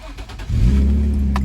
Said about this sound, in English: And that is the stock exhaust, no modifications.